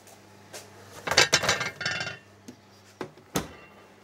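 A lid set onto a cast-iron casserole dish gives a cluster of close metallic clanks and clinks, followed by a few sharper knocks after a pause.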